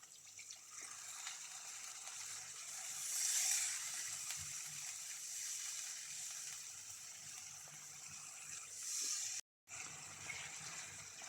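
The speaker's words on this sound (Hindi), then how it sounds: "अब हम इसमें ऐड करेंगे आधा गिलास पानी।" Half a glass of water is poured into cooking masala for tandoori chicken tikka masala, a soft, steady gushing and splashing heard quietly throughout with no talk.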